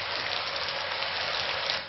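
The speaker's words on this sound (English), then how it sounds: "like the sound of rain" Steady rain hissing down, a dense, even patter of drops on a surface, continuous and fairly loud throughout with no voices.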